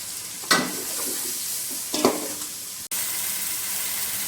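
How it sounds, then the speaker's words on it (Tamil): Tomatoes and cinnamon-clove powder sizzle in a pan for mushroom biryani, a steady close frying hiss with two brief stirring scrapes and a short break near the end, no voices. "அடுத்ததான் பட்டை கிராம்பு தூள் அடுத்ததான் தக்காளி ஆட் பண்ணிக்கலாம்."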